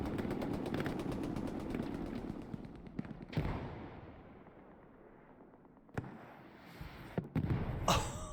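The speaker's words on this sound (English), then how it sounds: "And another rocket coming straight into the house" In Hell Let Loose, rockets slam into a house with several sharp, loud explosive cracks and rumbling decay, amid crackling gunfire bursts and battlefield noise.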